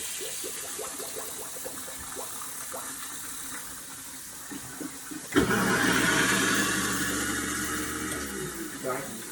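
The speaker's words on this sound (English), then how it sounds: "Just gonna go ahead and simply pour that water off." Soaking water from a pot of four potatoes poured off into a kitchen sink, a sudden rushing splash and gurgling drain that starts midway and runs on steadily after quieter handling sounds.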